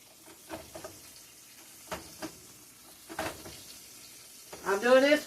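Liver frying in a home pan on an uneven stove, with a low background sizzle punctuated by intermittent scrapes and turning sounds, ending in a louder burst of spitting and sizzling.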